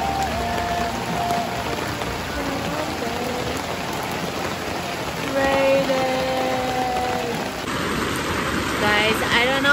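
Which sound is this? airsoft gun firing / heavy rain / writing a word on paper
heavy rain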